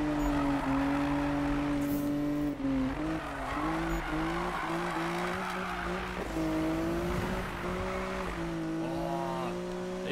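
Nissan Skyline drifting around corners in Need for Speed, a loud revving engine with wavering pitch under long continuous tire squeal and skidding, close and unbroken, with no talk.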